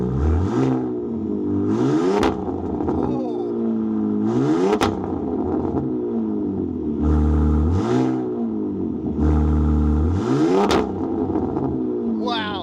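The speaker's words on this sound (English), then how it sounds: "for a straight 6, she makes a lot of fun gurgly sounds" The straight-six Hurricane engine of a 2026 Ram 1500 RHO truck is revved repeatedly from idle, each rise and fall clear and close, with a gurgly exhaust note and voices talking between the revs.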